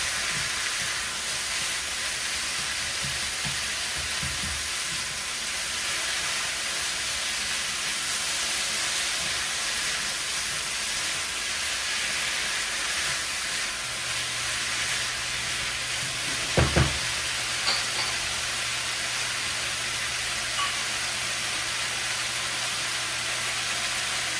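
Garlic, ginger and green onion whites fry in a hot pan, a steady soft sizzle and hiss running alone throughout, with one brief clack of a utensil near the end.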